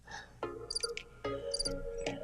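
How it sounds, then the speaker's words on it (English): A sound machine plays a recorded cricket chorus at low level, giving short high chirping bursts over a faint background hum. "Got crickets."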